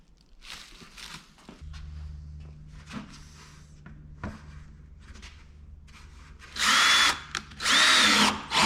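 A drill bores holes into a plastic 5-gallon bucket for a sump pump setup, several short bursts of quiet whirring followed by two loud, sharp, near cutting shrieks at the end.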